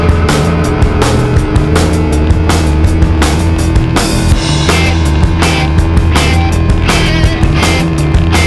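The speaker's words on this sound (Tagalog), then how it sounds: "Ang dami sasakyan ngayon, so ingat-ingat lang" Motor traffic rumbles and roars past during a competitive bike race stage on a busy road, a loud continuous drone with repeated passing swells and wind buffeting close by.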